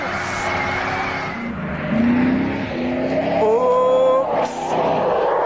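A TVR sports car with a tuned engine pulls hard at full throttle, its engine note rising steadily in pitch as it accelerates, loud and close, with a brief sharp burst of noise near the end.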